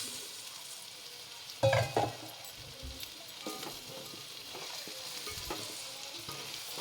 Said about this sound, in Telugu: ఇలా ముక్కలు అంతా ఇలా కలిసిపోయేటట్టు కలిపేసుకోవాలన్నమాట